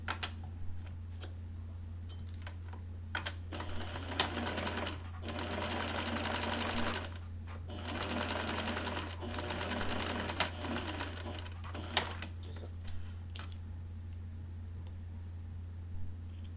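Sewing machine stitching the armhole of a princess blouse, running in several loud bursts of rapid mechanical clatter separated by short pauses, over a steady low motor hum.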